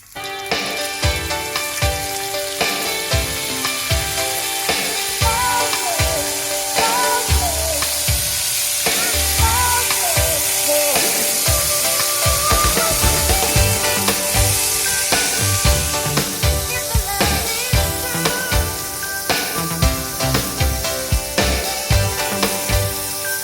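Loud, continuous sizzling and popping of chanterelle mushrooms frying in a hot pan, with occasional stirring clatter and no talking.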